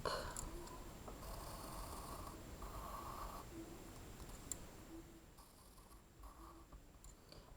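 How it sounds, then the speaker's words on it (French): Paper being cut with scissors along drawn lines, soft repeated snipping and rustling in short bursts, close and quiet with no talking. "Je découpe sur les traits."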